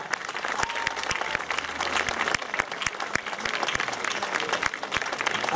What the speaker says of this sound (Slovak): Dámy a páni, veľký potlesk.